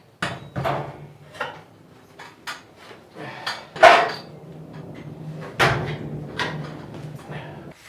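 Metal clanks and knocks as a garage door spring rod is pulled loose from the wall during a Wayne Dalton door upgrade, with scattered sharp bangs and scraping among close, irregular handling noises.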